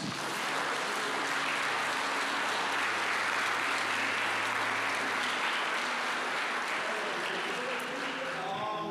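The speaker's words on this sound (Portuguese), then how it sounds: "Você pode aplaudir a Jesus?" Congregation at an evangelical church service applauding, a dense, steady wash of clapping that fills the room for the whole stretch, with faint voices and a sustained musical tone beneath it.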